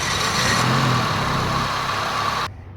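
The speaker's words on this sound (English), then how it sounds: "Let's start her up and hopefully she starts." A 1991 Honda Civic RT wagon engine, with its supercharger removed and old fuel in the tank, runs with a loud, close, steady roar for about two and a half seconds before it abruptly drops away.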